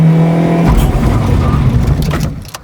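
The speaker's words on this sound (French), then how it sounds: "Tu mets la première et là tu commences ton burn." A BMW E36 engine revs hard at full throttle in first gear for a burnout, a loud close roar holding steady, then surging and briefly dropping before fading out at the end.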